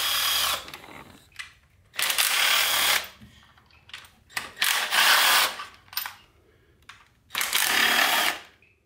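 Ratchet loosening fuel rail bolts on a Corvette C5Z engine during cylinder head removal, with several bursts of fast close clicking broken by short pauses, loud and without talking.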